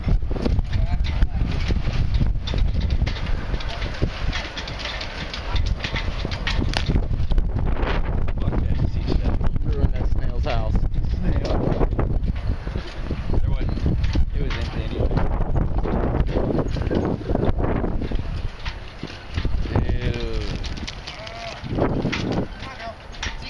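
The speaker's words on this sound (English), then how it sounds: "This wind is nice for her." Strong wind buffets the microphone outdoors by a boat, a steady loud roar lasting throughout with gusty rustling, while people talk over it.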